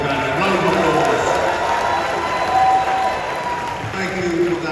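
An audience at a Bank of Ghana event honouring its governor applauds, a dense continuous wash of clapping and crowd noise, loud and sustained throughout with no break.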